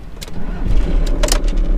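An old car's engine cranks and catches near a beach, settling into a rough, loud idle with a low rumble and a couple of brief higher bursts.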